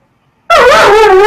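A dog's single loud, close bark that stretches into a drawn-out yelping whine, following a moment of silence.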